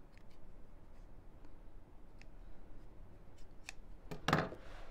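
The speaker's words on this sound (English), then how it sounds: "Snip off my ends." Scissors snip off thread ends on a felt Easter egg decoration, a few faint ticks followed by one sharp, close cutting snip near the end, with no talking.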